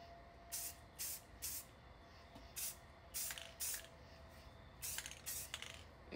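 Aerosol can spraying satin black paint onto a welded hatchet head, heard as about ten short, close hissing bursts in an irregular rhythm over quiet background.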